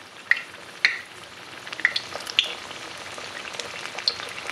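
Battered shrimp fry in hot oil over low heat, a close, steady sizzle scattered with sharp pops and crackles, with no voices.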